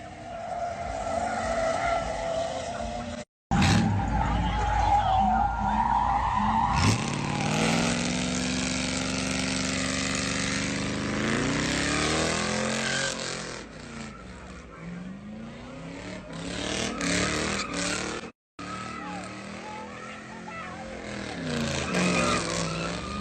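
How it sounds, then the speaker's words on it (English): A car spins donuts at an interstate I-55 exit, its engine roaring steadily while tires skid and squeal in long continuous sweeps, loud and close, with brief cuts and a few voices faintly underneath. "Doing donuts, they call them donuts, but when you wilding out, you make the cars dance"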